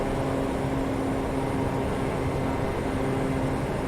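A jet airliner's thrust reversers roar in Microsoft Flight Simulator, deployed while still airborne: a steady, loud broadband rush with a low tonal hum that holds evenly, with no talk over it.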